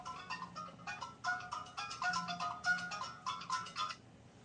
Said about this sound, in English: Turn your phone off so it doesn't ring.